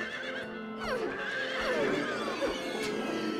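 Horses neigh and whinny in the Silent Hill 3 video game, several overlapping calls sliding up and down over a steady background bed, with faint hoof thuds underneath.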